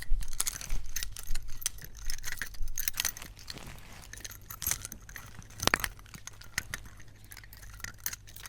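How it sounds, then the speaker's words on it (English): A set of keys jangling and clinking close up in irregular bursts of bright metallic rattles, with no talking. "So I got my keys for here."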